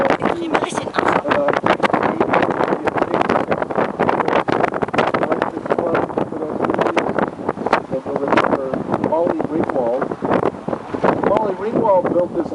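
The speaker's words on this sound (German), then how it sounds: "Voll windig hier." Strong outdoor wind buffets the microphone in a loud, continuous roar with gusty surges, while a person talks underneath.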